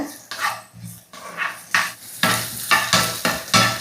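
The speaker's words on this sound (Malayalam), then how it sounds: "നമ്മൾ അരിഞ്ഞ് വെച്ച് നമ്മുടെ വെണ്ടക്കായ അത് നമുക്കിതാ ഇട്ട് കൊടുക്കാം" Chopped okra sautés in a pan, with rhythmic spatula strokes scraping and stirring over a steady sizzle. The strokes come close and clear, about two each second.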